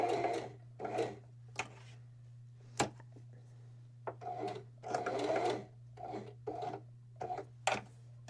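A sewing machine runs in short bursts while back stitching a fabric book sleeve, its rapid needle chatter stopping and starting between brief pauses over a low steady hum.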